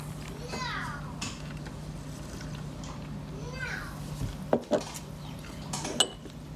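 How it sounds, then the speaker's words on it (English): Ice cubes clink and drop into a drink in a few sharp, close knocks near the end, under steady conversation and a low background hum. "Put some ice cubes in it."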